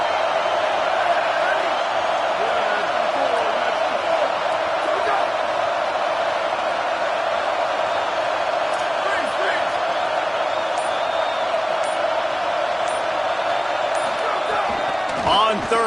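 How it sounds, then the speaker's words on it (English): A roaring stadium crowd in a college football video game, a steady dense wall of cheering and noise that holds for the whole stretch, with an announcer talking over it. "Listen to this crowd just shaking the girders of this place"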